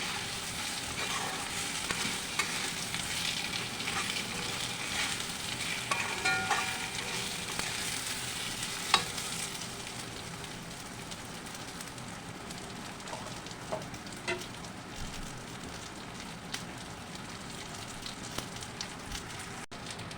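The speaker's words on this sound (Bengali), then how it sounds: "তারপরে চালের মধ্যে আমি আলুগুলি ভেজে নেব" Potatoes fry in a pan with Gobindobhog rice and a little turmeric, a dense, steady sizzle close by with occasional light stirring clicks, easing somewhat quieter in the later half.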